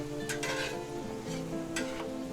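Salmon fillets searing in a hot pan with butter and garlic, a steady bright sizzle with a few louder crackling bursts and faint utensil scrapes, no talking.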